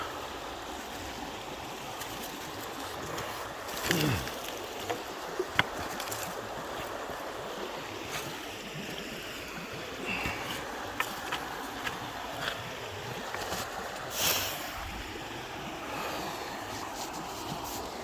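Steady wash of a river flowing along a trail, a continuous moderate rush heard close, with buzzing insects and occasional small knocks and thumps from nearby movement.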